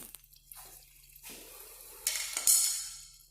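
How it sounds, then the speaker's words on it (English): Water rushing through the supply line of a water fountain, opened at a small access point inside the drain, rising from a soft trickle to a louder, hissing flow near the end. "you can hear the water running through the line"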